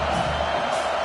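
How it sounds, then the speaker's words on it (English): Stadium crowd roaring in the EA College Football 25 video game during an Oklahoma vs Florida State matchup, a dense, sustained wash of cheering that fills the whole moment with no clear individual voices. "Listen to this crowd just shaking the girders of this place, trying to help their defense."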